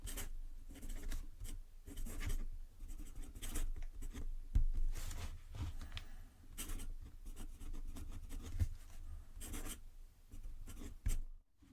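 An oblique nib pen scratches across paper in close, quiet strokes, a steady rhythm of short scraping bursts with brief gaps between them, alone with no talk.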